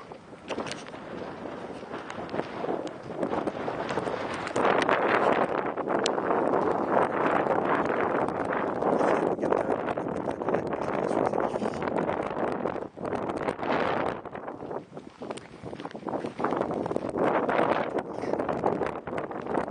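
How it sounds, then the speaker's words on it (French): Strong wind on a mountain gusting hard against the microphone, a loud broadband roar that swells and dips for twenty seconds, continuous and close. "C'est incroyable parce que ça souffle."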